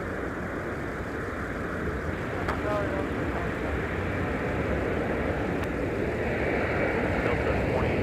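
An aircraft landing at Minneapolis airport on a snowy day, a steady, broad jet roar that builds slightly over several seconds, with a few faint clicks and tones above it.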